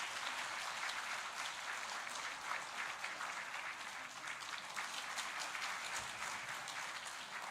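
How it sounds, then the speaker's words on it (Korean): Church congregation applauding during a Sunday worship service in Daegu, a steady sustained wash of clapping from many hands lasting throughout, fairly even in loudness with no voices on top. "함께 우리 박수로 축복해 주시기를 바랍니다"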